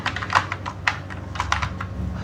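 Typing on a computer keyboard: quick, uneven clicks and taps close up over a faint steady background hum, with no talking.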